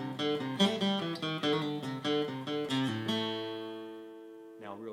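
A song intro picked on guitar: a bright, steady run of close, ringing notes, then a final chord left to sustain and fade, with a brief rustle at the very end.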